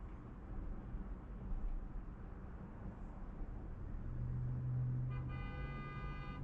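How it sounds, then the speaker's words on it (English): A car horn honks in Los Angeles street traffic, a sustained toot rising near the end over a steady road rumble and passing vehicle noise, heard from inside a car. "Now there's someone honking at me."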